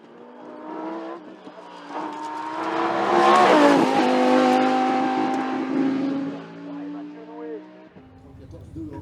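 A Lamborghini Huracan Super Trofeo race car accelerates up a hill climb course, its engine rising in pitch through the gears and swelling loud as it nears, then fading away.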